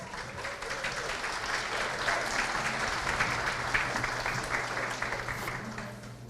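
Audience applause at a state seminar of a professional council in São José do Rio Preto, a steady even wash of many hands clapping at moderate volume, continuous throughout with a low hum beneath.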